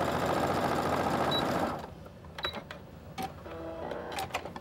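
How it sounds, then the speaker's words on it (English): A sewing machine hemming the end of a quilted holiday table runner runs in a fast, loud continuous whir for over a second, then stops, followed by quieter clicks and handling noises. "So now we go zooming. And we're just"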